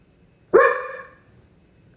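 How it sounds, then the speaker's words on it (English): A puppy in the background lets out a single sharp, tonal bark that trails off quickly, fairly loud and close, with a hint of another sound starting at the very end. "Don't mind my puppy in the back."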